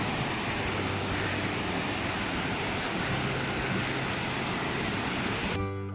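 The Kapuzbaşı waterfalls on Erciyes mountain give off a constant, dense roar of rushing water, steady and moderately loud from start to finish, with a brief faint tonal sound at the very end.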